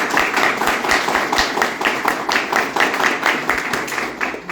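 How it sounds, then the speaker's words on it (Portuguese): An audience at a cultural event in a hall applauds with a steady, dense patter of many hands clapping at moderate loudness. "Peço a todos os presentes uma calorosa salva de palmas para receber."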